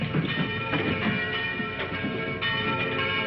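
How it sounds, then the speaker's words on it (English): A church bell tolls in an old radio drama, with a dense, muffled band of repeated metallic strokes ringing steadily throughout, loud and continuous with no speech over it. "the bell that rang with no man alive to pull the rope"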